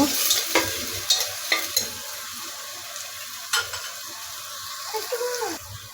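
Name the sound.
chopped onion frying and being stirred in oil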